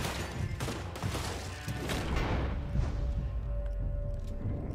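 Scattered gunfire echoes through a busy firefight in Red Dead Redemption 2, with several loud shots early over a dense rumbling background, then fainter distant cracks as the scene settles into a steady low din.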